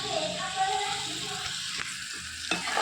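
Steady pan roasting with coconut milk poured in, a continuous close frying sizzle with occasional stirring scrapes and a louder burst near the end, no talk heard.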